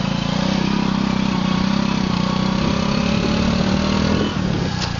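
Motorbike engine running steadily while riding through a rural stretch near Orekkar, shifting down a gear, with a constant near drone that dips briefly toward the end.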